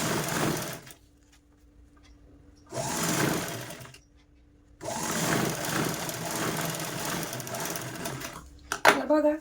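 A sewing machine stitches a zipper onto a bag in two sustained runs of close, steady mechanical whirring separated by short pauses, with a brief clatter at the end and no talking.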